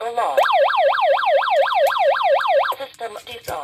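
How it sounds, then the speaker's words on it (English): A wireless security alarm system sounds its SOS siren, a loud, fast rising-and-falling electronic wail that cycles steadily for a couple of seconds before cutting off. "SOS alarm."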